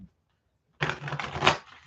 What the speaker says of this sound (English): we're just going to keep shuffling for a little while